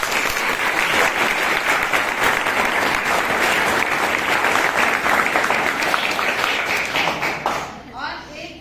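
An audience at a college health camp applauds loudly and steadily for several seconds, a dense, close wash of clapping that tapers off at the end.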